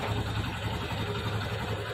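A TVS Star City motorcycle engine idles steadily and loudly up close, a continuous low chugging throb with no voices.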